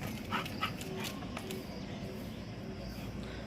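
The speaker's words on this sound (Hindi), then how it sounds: "बहुत जोर से भौंक रहा है उधर" Faint, distant dog barks and yips come through a steady background hum, several short bursts early on.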